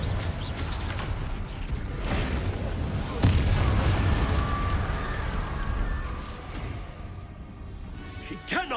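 A blasting-curse explosion from the Hogwarts Legacy video game: a dense, rumbling boom swells around the middle and then tails off. It sits among other game combat noise.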